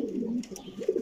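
Racing homing pigeons cooing on a rooftop loft, a close, soft run of low throaty coos with a faint chirp in the background.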